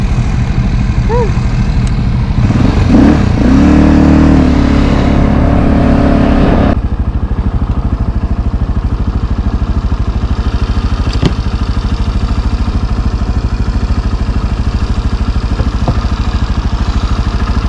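Motorcycle engines idle and rev on a trail ride, a loud close engine drone that swells briefly before settling into a steady lower idle rumble, with faint voices talking at times.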